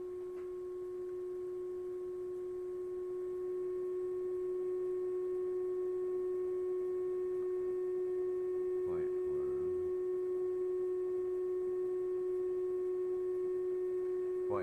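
A Native American style flute blown with compressed air holds one unwavering pitch, a steady, pure tone with faint overtones, sounding mechanical and constant, with a brief soft rustle near the end.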